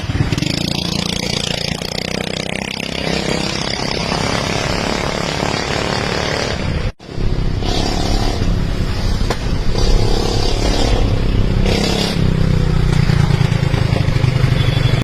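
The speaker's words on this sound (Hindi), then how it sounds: "स्कूटी का इंजन है।" A small scooter engine fitted to a modified vehicle for a disabled rider runs loudly and steadily outdoors, with a brief dropout midway before the droning continues.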